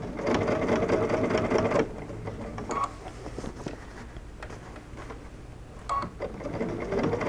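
A home sewing machine stitches fabric for a bucket hat, running in a loud rapid whirring burst, then continuing in quieter, shorter runs with brief stops and clicks in between, close by and without any talking.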